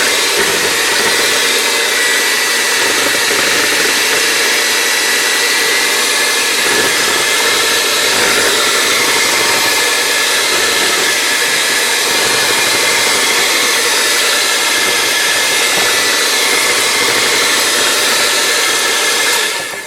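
An electric mixer whirs steadily, beating pumpkin pie filling in a bowl, a continuous loud motor drone with no talk over it for the whole stretch.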